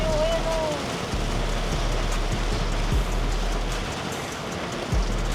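Heavy rain pounds a car on a road trip near Kaybiang Tunnel and Tagaytay, a dense steady patter with a few heavier thumps under a low cabin drone.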